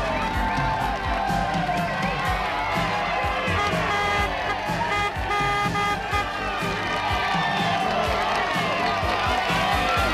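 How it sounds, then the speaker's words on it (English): A big roadside crowd at a 1990 Tour de France mountain climb cheers loudly and steadily, with horns tooting and shouts in a dense continuous roar as a local favourite crests the top. "To an enormous cheer, Tiddy Claverolla goes over the top of the climb."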